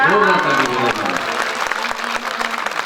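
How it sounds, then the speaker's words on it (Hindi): Audience at an educational institution's event breaks into applause, a burst of clapping that rises under a speaking voice at the start, then continues alone as scattered claps. "एक ताली बजा लीजिए"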